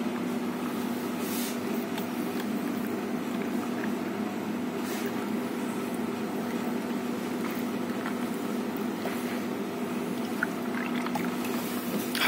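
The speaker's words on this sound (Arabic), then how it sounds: "هنحط على كل كوباية نص كوباية لبن" Milk poured over ice into glasses of iced coffee, a steady, continuous splashing pour that runs without a break at moderate volume, with no talking.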